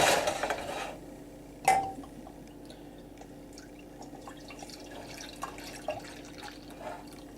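Glass beer bottles are set down into a metal pot with a couple of sharp clinks, followed by softer scattered taps and faint dripping in a quiet kitchen.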